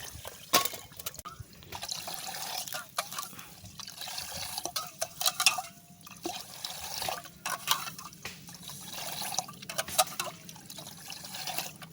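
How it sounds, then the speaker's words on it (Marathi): Cold water pours and splashes steadily into a bottle with ice, with intermittent clinks and sloshing up close, no voices. "गार पाणी टाक."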